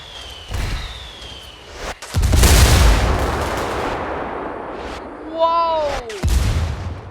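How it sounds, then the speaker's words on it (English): Rebel artillery indirect fire in Ghost Recon Wildlands lands as a heavy, rumbling explosion mid-clip, with shorter bursts and rising whistles afterward and people talking around it. "Call the rebels for some indirect fire."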